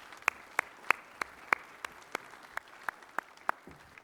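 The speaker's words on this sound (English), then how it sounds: "So if you join me in a round of applause for these leaders up here" Slow, evenly spaced claps, roughly three per second, sound out crisp and close for a defense panel, sparse rather than a full crowd's roar.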